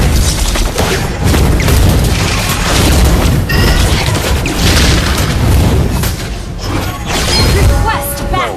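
A loud in-game explosion as a turret is destroyed in Mobile Legends: Bang Bang, with heavy booms, crashing and shattering debris over a continuous battle din, with an announcer voice over it.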